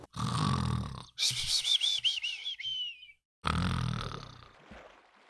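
A voice imitates snoring for sleeping in Minecraft. There are two loud, rasping inhaled snores separated by a whistling exhale that wavers in pitch, with a short silence before the second snore.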